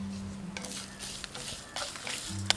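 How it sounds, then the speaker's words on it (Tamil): Dried red chillies and grated coconut roast in a pan for sambar, a soft sizzle with a spoon scraping and stirring, ending in a small metallic clink. "காஞ்ச மிளகாவையும் தேங்காவையும் போட்டு ஒரு 30 to 40 seconds நல்லா இப்படி வறுத்ததுக்கு"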